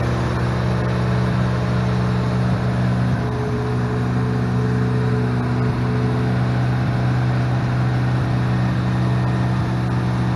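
A 1988 Mazda RX7's rotary engine runs smoothly at idle, a steady low hum with constant pitch heard close and alone.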